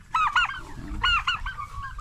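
Poultry on a small farm, turkeys among chickens, give repeated loud honking gobbles in paired bursts over a low rumble of background noise.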